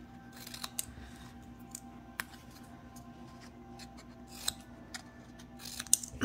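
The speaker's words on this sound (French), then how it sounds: "Je vais couper entre les chiffres." Hand-held scissors cutting between printed numbers on a Cricut craft project, a quiet run of soft snips and occasional sharper clicks spread over several seconds, close by with no talking.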